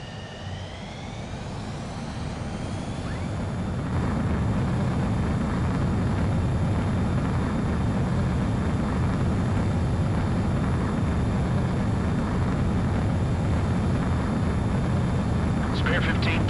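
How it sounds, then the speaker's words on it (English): A base commander's transport aircraft takes off in Ace Combat 7. The jet roar swells over the first few seconds, then holds as a loud, steady, continuous rush. "The base commander's transport craft has taken off."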